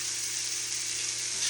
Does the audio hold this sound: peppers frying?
yes